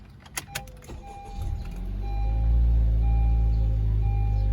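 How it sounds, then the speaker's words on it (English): A 2017 Honda Civic Sport Hatchback engine cranks with a few short clicks and whirs, then catches and settles into a steady, close, continuous idle hum. "I'm gonna turn on the car"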